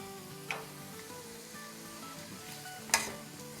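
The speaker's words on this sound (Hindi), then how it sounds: "गोश्त चटक पटक हो रहा है।" Chunks of meat crackling and sizzling in hot oil as gosht ka achar (meat pickle) fries to a brown finish, a steady low hiss with two sharp pops, faint and alone.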